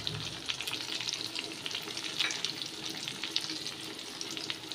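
Spices frying in oil in a pan with potatoes for a prawn and pointed gourd curry, giving a low steady sizzle with scattered crackles and pops, close but fairly quiet, with no talking.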